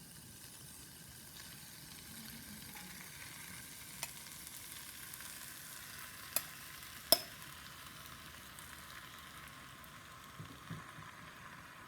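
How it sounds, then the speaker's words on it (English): Quiet, steady sizzling of a pork and spinach frittata frying in a pan, with a few faint clicks and taps of utensils, no talking. "Hear that sizzle?"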